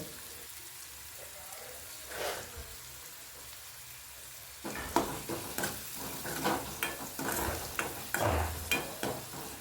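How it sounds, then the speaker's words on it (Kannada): Onions and curry leaves fry in hot oil for cucumber palya, a quiet sizzle that grows busier and louder halfway through as crackling pops and stirring scrapes crowd in. "ಈರುಳ್ಳಿ ಎಲ್ಲ ಚಲೋತ್ನಿಗೆ ಫ್ರೈ ಆದಮೇಲೆ ಇದಕ್ಕೆ ನಾ ಇಲ್ಲಿ 2 ಕಡ್ಡಿಯಷ್ಟು ಕರಿಬೇವು ಸೊಪ್ಪನ್ನು ಸಹ ಹಾಕ್ಕೊಳತ್ತೀನಿ ನೋಡ್ರಿ."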